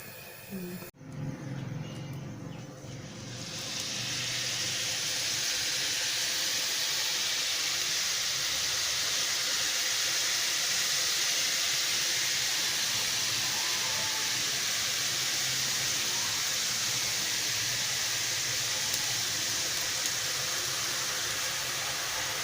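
Lasuni shev frying in hot oil in a kadhai, a steady loud bubbling hiss that swells after a brief start and holds constant, with a voice talking beneath it.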